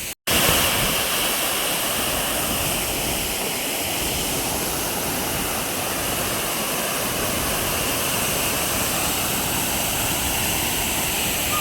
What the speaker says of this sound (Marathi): इथे ना खूप धबधबे, इतके भारी धबधबे ना तुम्हाला काय सांगू